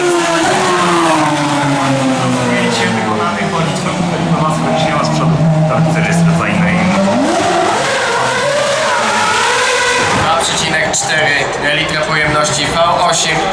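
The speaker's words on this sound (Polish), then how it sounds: "18 tysięcy obrotów. E, tak e, prezentuje się silnik e, Formuły 1 silnik" A Formula 1 car engine screams at very high revs, around 18,000 rpm, pitch sliding down and climbing again, loud and close, with a voice talking over it.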